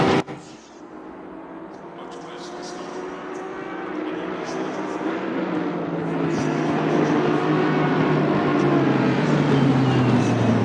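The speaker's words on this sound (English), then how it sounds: "When you watch a replay of one of these races as the cars go by, the sound effects are amazing." Race cars in an Assetto Corsa Competizione replay roar past, a continuous engine drone that swells louder and lower toward the end as the pack draws near.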